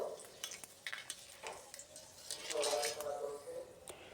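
Bay leaf, dried red chilli and fenugreek seeds are stirred in hot oil for a potato curry, giving a soft sizzle broken by repeated light clinks and scrapes of a spoon against the pan.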